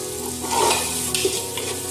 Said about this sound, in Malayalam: ഇതെല്ലാം കൂടി നന്നായിട്ടൊന്ന് വഴറ്റുക.